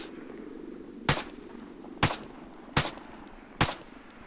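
AK-12 rifle fire in ARMA 3, four sharp single shots at irregular intervals of roughly a second, loud and close over a low steady rumble, with no talking.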